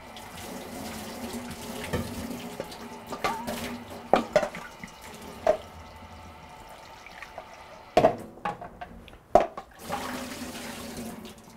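Running water from a kitchen tap splashes over strawberries in a strainer after a soapy-water wash, a steady rush broken by a few louder clunks and splashes as the berries are moved, with no talking.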